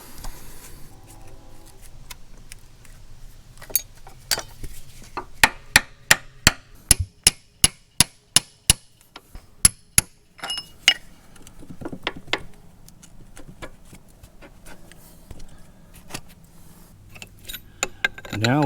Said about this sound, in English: So we'll get this cotter pin pulled out here.